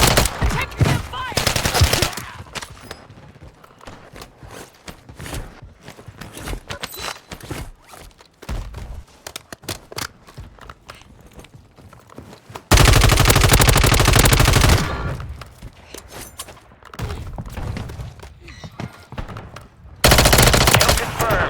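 Gunfire in Call of Duty Warzone on Rebirth Island: loud, rapid machine-gun bursts crackle repeatedly, with two long sustained volleys standing out among shorter clusters of shots and quieter footsteps between them, and no talk.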